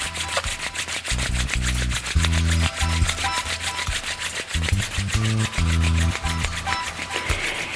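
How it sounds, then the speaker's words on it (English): Two palms rubbed briskly together to build heat, a close, rhythmic rasping swish repeating in steady strokes with a low musical drone underneath. "bring your hands in front of your face and begin to rub them"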